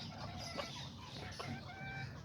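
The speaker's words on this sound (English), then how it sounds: "look at these roosters right here" Azteca and Serama roosters and hens cluck steadily close by in a short burst of farmyard chatter, with soft overlapping calls and no voices.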